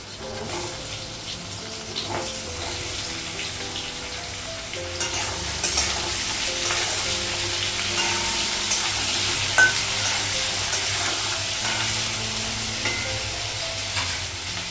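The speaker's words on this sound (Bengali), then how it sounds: "পেঁয়াজটা ভাজা হয়ে গেছে, ঝিঙে আর আলুটা লাগাবো।" Ridge gourd and potato pieces fry in a pan, giving a continuous close hiss that grows busier partway through as they are stirred, with occasional soft scrapes and no talking.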